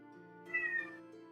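A single cat meow, a short tonal cry rising in the middle and trailing off, fairly close and quiet.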